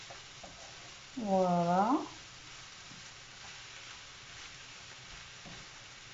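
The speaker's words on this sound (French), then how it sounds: "Donc là vous remuez vos pâtes." Pasta with minced meat being stirred in a frying pan: a soft sizzle runs throughout, with a brief, louder scraping stir near the start, close by, and a short spoken word.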